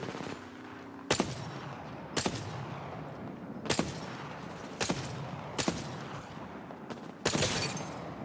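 Gunfire in the battle royale game Apex Legends: six sharp shots crack out at irregular intervals over a steady rumbling background, the last a longer burst, fairly loud and close with no talking.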